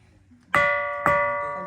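A stone struck against another stone at Chhatreswar Mahadev temple on Chhatahudi Hill, Balasore, rings out twice like a metal bell, each close, loud strike leaving a sustained, slowly fading tone.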